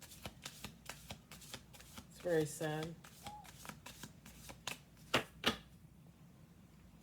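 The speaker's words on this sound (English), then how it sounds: "Let's do one more shuffle." Tarot cards riffled and shuffled in a series of crisp, close flicks and snaps, with a short spoken remark partway through.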